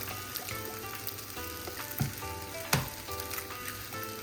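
A little oil sizzles in a hot pan beside pushed-aside hibachi-style food, a steady close frying hiss with two brief louder spatters, no talk.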